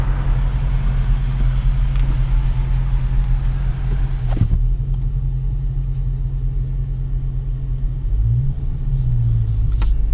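2017 Dodge Charger 392 Scat Pack V8 while driving, a deep steady rumble heard from inside the cabin, with a brief rise in revs near the end.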